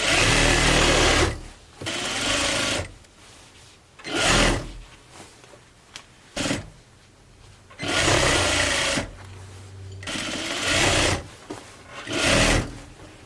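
A sewing machine stitching a reversible grocery tote bag, running in several loud bursts of steady whirring separated by short pauses.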